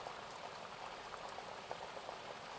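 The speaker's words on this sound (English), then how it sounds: "to the water lapping on the shore," Water laps gently on a sandy shore in a steady, close wash of fizzing, bubbling ripples with small irregular splashes, continuous and soft, no voices.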